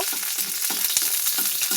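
Rohu fish oil, rubbed with turmeric and salt, sizzles and crackles in a hot wok alongside chillies and garlic, a steady close frying hiss broken by sharp spatters and stirring clinks, with no talking.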